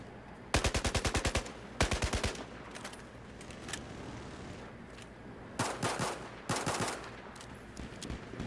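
Automatic gunfire from the military shooter Battlefield 4 arrives as rapid bursts of close, loud shots. Two quick volleys open the clip, and two more follow after a quieter stretch of scattered distant firing.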